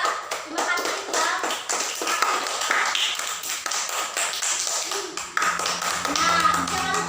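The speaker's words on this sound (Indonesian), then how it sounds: "untuk kita tepuk tangan pada pelajaran kita hari ini" A classroom of children clapping together at the end of a lesson, a dense burst of many hands close by, mixed with children's voices and a teacher talking over it.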